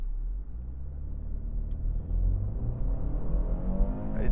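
A 2024 BMW X2 engine rumbles low and steady from a stop, then slowly rises in pitch as the car gathers speed, sluggish at first and building through the end.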